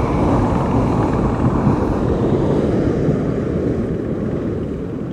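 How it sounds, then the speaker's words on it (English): Steady low rumbling drone of a helicopter overhead, loud and continuous with wind buffeting, fading slightly toward the end. "So this helicopter, especially this time of year, is up and down all day long."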